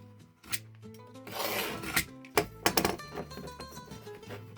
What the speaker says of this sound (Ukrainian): Можна одразу ножем різати для економії часу